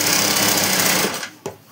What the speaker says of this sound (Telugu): ఇలా స్ట్రైట్గా కొంచెం దూరం ఇలా ఒక కుట్టు వేసుకుందాం